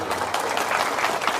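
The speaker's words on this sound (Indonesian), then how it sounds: "Coba tepuk tangan dulu." A religious gathering crowd claps together at an Indonesian sermon, a dense, steady wash of many hands lasting the whole moment at fairly close range.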